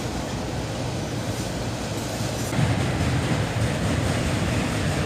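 A long CSX autorack freight train rumbles steadily past nearby, a dense continuous roar of rolling wheels and rattling cars with no letup.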